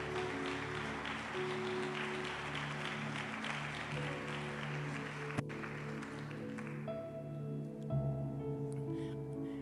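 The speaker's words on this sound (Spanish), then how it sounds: "Dele una ofrenda de palmas al Señor." Church congregation claps together during a Spanish-language worship service, broad applause mixed with sustained music tones, fairly faint and thinning out toward the end.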